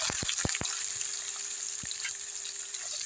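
Garlic, green chili and onion fry in hot oil with a steady, broad sizzle, broken early by several sharp clinks of a utensil against the pan and one more a bit later; no one speaks.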